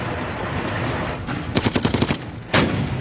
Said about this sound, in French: Les hommes de Burroughs sont toujours bloqués par la MG-34